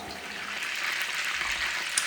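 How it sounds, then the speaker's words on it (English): Garlic chicken wings deep frying in a pot of bubbling oil, giving a steady, dense hiss and crackle that stays close and even throughout with no talking. "You can see that is bubbling nicely and they've just started to float to the top."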